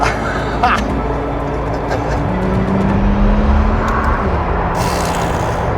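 A hypercar pulls away under hard acceleration with a loud continuous engine roar that rises in pitch as the car gathers speed. Occupants talk over it from inside the cabin.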